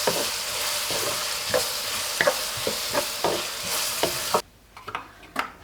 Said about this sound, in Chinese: 倒入切好的胡萝卜，把胡萝卜翻炒一下，加入切好的粉条